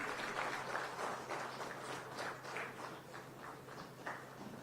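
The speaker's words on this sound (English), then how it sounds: "With a round of applause, ladies and gentlemen, we welcome the Honorable Chief Minister of Assam, Dr. Himanta Biswa Sharma." An audience applauds to welcome the Chief Minister of Assam at a conference inauguration, a steady wash of many hands clapping at a distance, even and sustained throughout.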